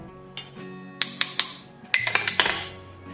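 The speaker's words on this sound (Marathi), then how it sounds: "खडीसाखर ही मी जाडसर कुटून घेतली आहे ती टाकून घेते याच्यात" Coarsely crushed rock sugar tipped into a bowl for a festival sweet, giving a scatter of bright glassy clinks and ticks in two quick bursts.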